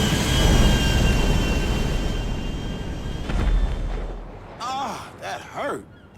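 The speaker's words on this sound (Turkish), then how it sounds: "Şu uçağı süreceğim" An airplane in the video game GTA V drones with a loud, steady engine roar that swells and then fades, as the game sounds shift and a voice talks near the end.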